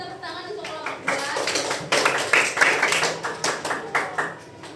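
Classroom of primary school pupils applauding a student group, a scatter of quick claps that swell and fade over a few seconds, with voices mixed in.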